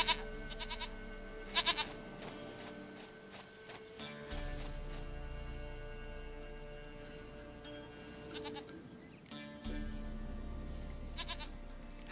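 Goat bleating in The Witcher 3, a few short wavering bleats over a steady game soundscape with low ambient drones, fairly faint and alone without talk.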